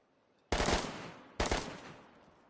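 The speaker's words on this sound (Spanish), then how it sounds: "¿Has escuchado tiros? Soy yo" Two loud gunshot bursts in the survival video game DayZ, each a sharp crack with a rattling tail, roughly a second apart and fading out without any talk.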